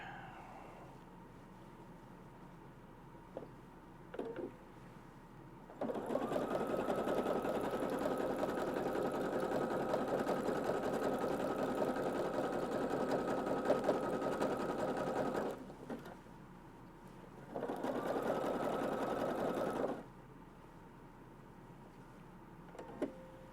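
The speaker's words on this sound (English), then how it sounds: "Let's try again with a larger zigzag stitch." A sewing machine runs a larger zigzag stitch on a pair of prototype US Special Forces pants, whirring loudly in two long bursts of about ten and three seconds, with quieter handling noises between them.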